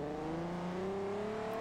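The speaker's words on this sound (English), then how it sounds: "Love the sound of this car" A Nissan GT-R engine in the racing game Forza Horizon 2, tuned for drifting, drones steadily with a slowly rising pitch. It is loud and constant, with no voices.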